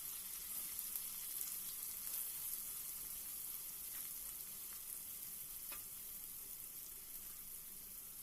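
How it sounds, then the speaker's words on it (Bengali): A cardamom pod, two cloves and a little cinnamon fry in oil left from frying potatoes, making a faint, even sizzle with a few light utensil ticks. "এবার আলু ভেজে নেওয়া ওই তেলের মধ্যেই আমি একটা এলাচ, 2টো লবঙ্গ, অল্প একটু দারচিনি ফোড়নের জন্য দিয়ে দিলাম।"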